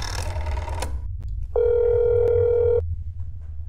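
A telephone call tone in the video game That's Not My Neighbor: a single steady electronic tone lasting over a second, clear and close, following a brief burst of other game sound.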